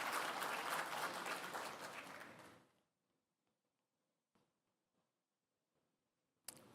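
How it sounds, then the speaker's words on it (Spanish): An audience applauds at a lecture on world geopolitics, with dense full clapping that fades out after a few seconds, leaving near silence broken by a couple of faint knocks and a sharp sound at the end. "Pueden aplaudir."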